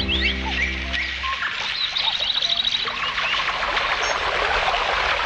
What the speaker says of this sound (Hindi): मैं तो बर्ड्स की चर्पिंग भी सुन सकता हूँ।